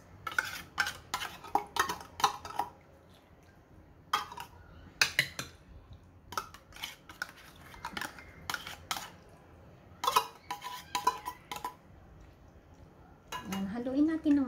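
Macaroni salad stirred in a bowl with cream: repeated scraping and clinking of a utensil against the bowl in irregular bursts, close and fairly quiet, with short pauses between strokes and a louder rattle at the end.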